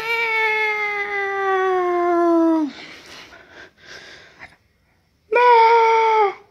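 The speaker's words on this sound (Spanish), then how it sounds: "Ahí está el gato." A cat lets out a long, drawn-out meow, pauses amid faint rustling, then gives a second shorter meow, close and clear.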